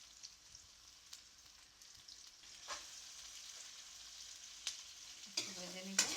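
Chopped garlic with salt frying in hot oil for a curry with dried suri fish, a low steady sizzle with a few soft clicks and a louder spatter near the end, no talking.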